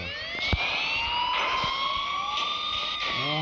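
A police car siren in the video game Gangstar Vegas wails with rising and falling tones, steady and fairly loud throughout, with a brief sharp knock near the start.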